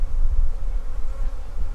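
Honeybees buzz around an open beehive during a hive inspection, a loud, close, continuous drone of many wings with no voices.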